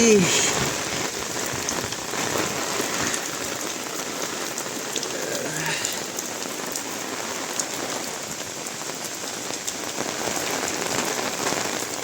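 Heavy cyclone rain in Balasore, India, pours steadily throughout, a dense, constant hiss of drops hitting surfaces, loud and close with no voices.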